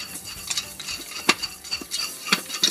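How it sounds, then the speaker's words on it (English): Popcorn kernels in a pan on the stove, shaken continuously, giving a rattling, scraping clatter of kernels and metal with irregular sharp knocks and faint sizzling underneath, close and fairly loud, no speech. "We need to make sure at this point we keep shaking so that way those popcorn kernels don't stay on the bottom"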